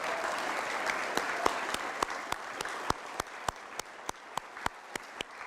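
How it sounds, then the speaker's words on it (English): An audience applauds veterans at a Derry, New Hampshire event. Soft crowd clapping runs underneath while one nearby person claps in sharp, evenly spaced beats that grow louder. "How about a round of applause for all the veterans today?"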